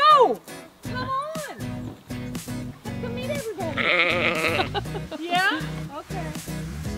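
Several sheep bleat close by, wavering cries repeating over a choppy rhythmic background, with people's voices mixed in.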